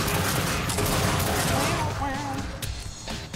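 Dense, sustained gunfire rattles continuously in the video game The Darkness II, loud throughout with bursts overlapping, while a voice talks over part of it.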